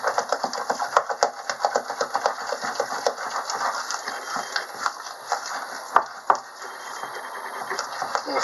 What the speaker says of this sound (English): So I'm going to keep whisking this until it's really smooth.